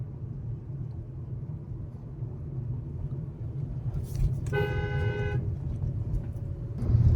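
Steady engine rumble of idling road traffic stuck in a jam at a police checkpoint in India, with a single car horn honking for about a second partway through.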